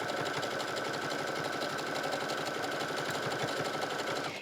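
A sewing machine runs steadily, stitching the neckline of a kids' t-shirt, with a continuous whirring drone and a fast needle rhythm throughout.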